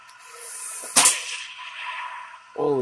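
A radio-controlled Japan Type 90 tank fires an airsoft BB with a single sharp, close crack followed by a brief hissing decay, with a short mechanical whir starting near the end.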